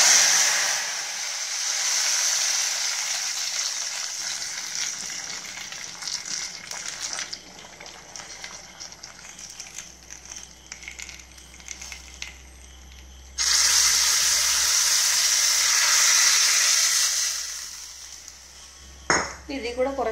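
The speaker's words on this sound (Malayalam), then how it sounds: "പിന്നെ നമുക്ക് ഈ കടുക് വറുത്തത് എല്ലാം കൂടെ ഇതിനകത്ത് ഒഴിക്കാം." Mustard seeds fried with curry leaves are poured into a pot of papaya sambar, bursting into a loud, hissing sizzle for several seconds. Before and after, quieter pot and utensil clatter runs under the sizzle.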